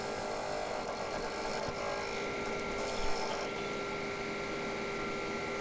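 An ash wood bowl spins at about 1400 RPM on a 1950s Burrs Green vintage woodturning lathe, making a steady, continuous mechanical whir and hum with faint scraping texture throughout.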